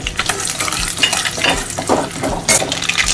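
Curry leaves and black mustard seeds sizzle loudly in hot oil, a dense steady crackle and spitting with occasional stirring clinks of a utensil against the pan, close up and without speech.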